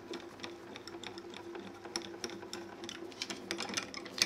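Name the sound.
die cutting machine embossing cardstock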